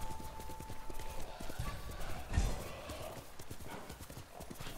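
Horse hooves clip-clopping at a steady walking rhythm in the video game Ghost of Tsushima, close and fairly loud, with a brief louder thud midway and a game soundscape underneath.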